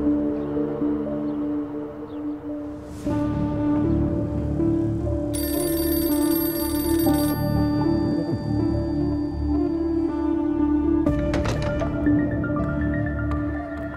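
A telephone rings with a steady, repeating electronic tone over a low background hum, loud and close, its pattern shifting partway through, with no talking.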